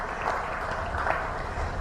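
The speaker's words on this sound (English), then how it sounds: "Another big hand of applause," An audience at a formal conference session claps steadily in a brief, fairly faint burst of applause with no voices over it.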